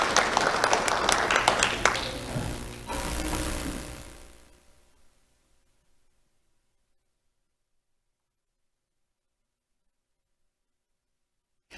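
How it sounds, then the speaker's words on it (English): At a Do The Right Thing awards ceremony, a crowd applauds an elementary-school honoree. Brisk clapping lasts a few seconds, thins out and fades into near silence for the rest. "Let's have a round of applause for Josiah Ortiz"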